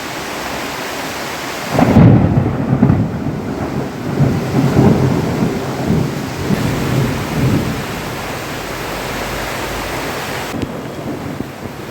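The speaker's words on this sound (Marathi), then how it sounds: "प्रचंड म्हणजे प्रचंड जोराचा आणि प्रचंड भयानक पाऊस झाला आज इथं" Torrential rain and a thunderstorm in Belur, Karnataka, break in suddenly with a loud roar of downpour and rolling thunder that stays dense and heavy for several seconds before easing to a steadier hiss.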